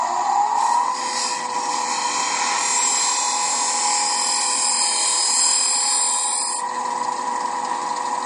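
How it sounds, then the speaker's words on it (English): A skew chisel held as a negative rake scraper against a spinning wooden stub on a lathe, giving a continuous high whining scrape over the motor hum that cuts off abruptly near the end. "I'm going to use my skew chisel as a negative rake scraper to remove small amounts from the sides of that stub."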